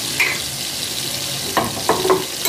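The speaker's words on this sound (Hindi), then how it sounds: "घी हमारा अच्छी तरह गर्म हो गया, अब हम इसमें डालेंगे प्याज एक बड़ा बारीक साइज पे कटा हुआ" Finely chopped onion fries in hot ghee in a kadhai with a steady close sizzle, punctuated by a few sharp scraping stirs near the end, and no one speaks.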